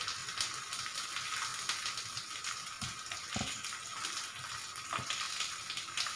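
Bottle gourd curry cooks in a pan over a low flame, a steady soft sizzle and bubbling hiss with occasional small pops and clinks, close and continuous without talk.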